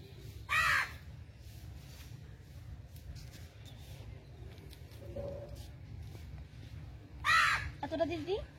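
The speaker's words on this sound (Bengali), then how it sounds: "কাক ডাকছে উপরে।" A crow caws overhead in two short bursts, one early and one near the end, clear and fairly close above a quiet outdoor background with faint rustling.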